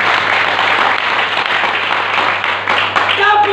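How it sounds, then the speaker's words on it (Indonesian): Church congregation applauding during a sermon, a dense, steady wash of clapping from many hands that holds loud and even throughout, with a constant low hum underneath. "Sudah terbuka, tepuk tangan."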